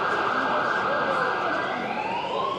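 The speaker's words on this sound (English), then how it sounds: "I'm guessing that's the Capri police car blaring up in the background." A police car siren wails steadily in the background at a classic Ford show, its pitch sweeping slowly upward against a constant wash of traffic noise.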